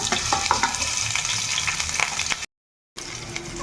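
Panch phoron, ginger paste and chopped green chilli sizzling hard in hot mustard oil, a loud steady fry with spoon stirs, cut by a brief silent gap before the crackle resumes.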